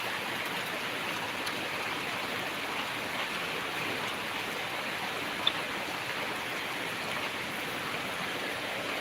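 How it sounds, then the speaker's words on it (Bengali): Rain falls steadily outside an open window, a constant, even hiss that holds at the same level throughout with no voices and one tiny tick near the middle. "দেখো কত সুন্দর বৃষ্টি হচ্ছে"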